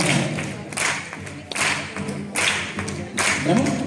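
An audience claps along in a steady rhythmic pattern, with strong accented beats about every three-quarters of a second, fairly close and lively, with some voices mixed in.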